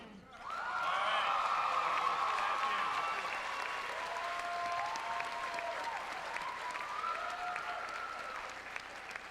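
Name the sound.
audience applause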